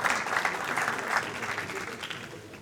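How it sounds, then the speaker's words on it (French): Audience applause at the KICK'S NIGHT 2025 kickboxing weigh-in: a dense, steady patter of many hands clapping for about two and a half seconds, fairly close and full, easing slightly toward the end. "Et on applaudit encore Yann Coquet et Constant Padabadi, s'il vous"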